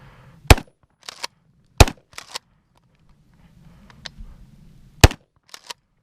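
Loud, sharp shots from a Winchester SXP 12-gauge pump shotgun fired from the hip outdoors, heard as three widely spaced blasts, each followed by the metallic clack of the pump action being worked.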